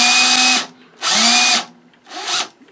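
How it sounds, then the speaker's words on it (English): An old electric drill fitted with a sanding attachment whirs in three loud bursts. Short pauses separate them, and the last burst is a little weaker, all heard up close. "It's an old drill, but that's okay."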